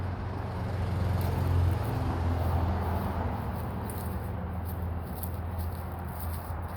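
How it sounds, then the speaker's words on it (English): Steady road traffic from nearby streets behind a residential backyard with a pool, a continuous low rumble of passing cars and trucks at moderate distance with no talk. "And there's your traffic noise."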